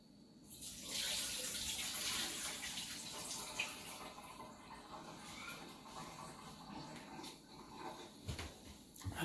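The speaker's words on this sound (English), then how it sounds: "So, I'm going to get the peas. I add in a little water." Water runs and splashes steadily into a pot of peas for several seconds, a soft continuous pour with faint clinks and background noise.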